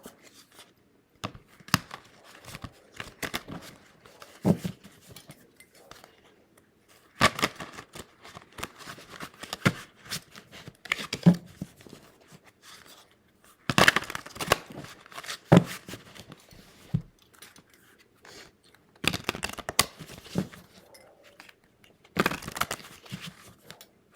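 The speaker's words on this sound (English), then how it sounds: "let's ruffle shuffle" A deck of cards being ruffle shuffled, with several bursts of crisp riffling spaced a few seconds apart, close and clear, separated by quieter handling and soft rustling.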